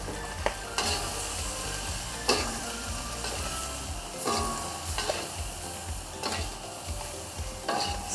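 Curry powder stirred into a pan of sizzling prawns, a steady loud frying hiss broken by repeated scraping stirs of the spatula every second or so, close up with no talk.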